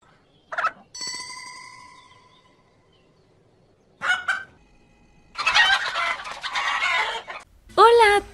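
A fighting rooster crows and clucks nearby, a long crow followed by bursts of squawking and clucking separated by pauses.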